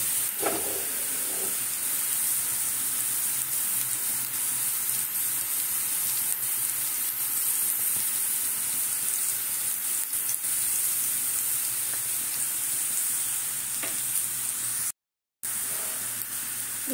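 Oil heats in a pan with a steady, hissing sizzle that runs unbroken, apart from a brief silent gap near the end.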